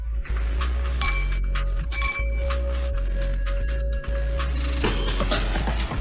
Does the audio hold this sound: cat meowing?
no